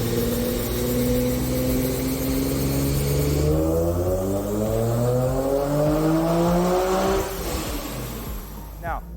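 A supercharged 2008 Infiniti G37 with a five-speed automatic climbs through its gears on a roller dyno, the loud engine note rising in a series of upshift steps before easing off at the end.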